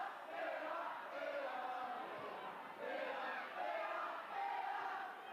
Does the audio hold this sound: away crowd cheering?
yes